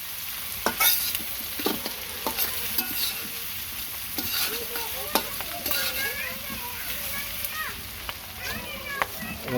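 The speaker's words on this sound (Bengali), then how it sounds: "সব পেস্টটা কষামো" Spice paste with ground cumin paste is fried and stirred in a pan for a raw jackfruit biryani, with a steady sizzle and repeated sharp spatula scrapes close by throughout.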